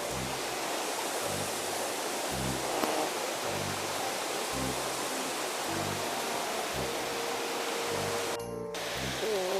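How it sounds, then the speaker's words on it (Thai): A waterfall in Japan roars as a constant broadband rush of falling water, with soft rhythmic low thumps beneath it like footsteps. "นี่คือน้ำตกด้านหลังนะครับ"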